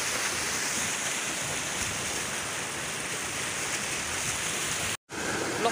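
Strong running water in the Lagaslasan river rushes in a steady, loud, broadband wash with no voices, cutting out briefly near the end.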